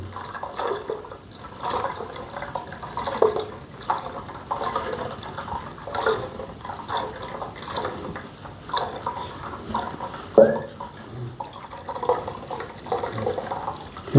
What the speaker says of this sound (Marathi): थोडंसं पाणी टाकून धुवून घेऊ थंड पाणी टाकून